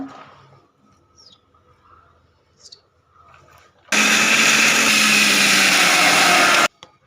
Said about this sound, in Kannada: ಇವಾಗ ಇದನ್ನು ಮಿಕ್ಸಿ ಜಾರಿ ಒಳಗೆ ಹಾಕೋತಾ ಇದ್ದೀನಿ ಎಲ್ಲದನ್ನೂ ರುಬ್ಕೋಬೇಕು ಚೆನ್ನಾಗಿ